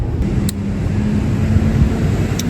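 A car passes nearby on a road, heard as a steady low engine rumble and broadband road noise that holds fairly loud and even throughout, with no one speaking.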